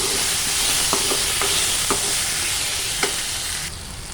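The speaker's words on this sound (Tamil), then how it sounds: "இப்போ தக்காளி நல்லா வதங்கிடுச்சு." Constant sizzling from a pan of tomatoes sautéing, with a few light clinks of a utensil stirring, loud and close.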